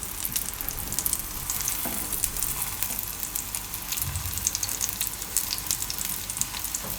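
Raja Rani paratha roasting in ghee on a hot griddle gives a steady, close sizzle with soft crackling pops, continuous for the whole stretch without speech.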